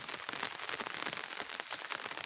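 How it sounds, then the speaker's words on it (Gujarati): Light unseasonal rain falls in a soft, continuous patter of drops on surfaces, fairly quiet and even, with no talking. "આમ ધીમો ધીમો વરસાદ"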